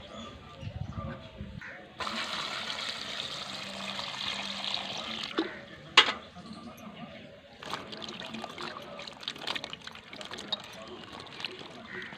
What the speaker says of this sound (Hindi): पानी से अच्छे से धो लेते हैं।